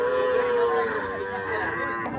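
A Sahiwal bull calf at the Chandimora cattle market in Comilla gives a long, steady moo that holds for about two seconds, close and clear over faint market murmur.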